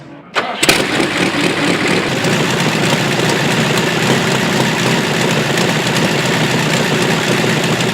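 The aircraft engine of a replica historic race car cranks, catches with a sharp burst, then settles into a loud, steady, close-up roar.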